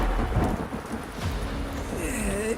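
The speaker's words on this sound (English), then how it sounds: "In storms this intense, you can easily expect to see frequent strikes of gigavolt lightning" Thunder from gigavolt lightning strikes in an intense storm, rolling low rumbles over a steady rain-like hiss, with a few brief sharper bursts and a rising tonal sweep near the end.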